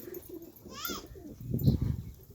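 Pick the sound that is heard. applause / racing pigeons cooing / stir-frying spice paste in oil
racing pigeons cooing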